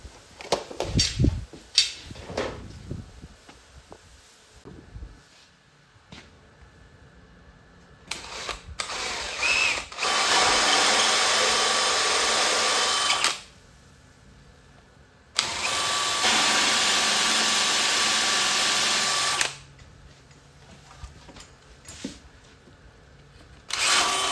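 A power drill with a paddle bit bores holes in an arcade control panel for Robotron and Sinistar cabinets: clattering handling noises, then two long, loud, steady drilling bursts separated by a short pause, close by.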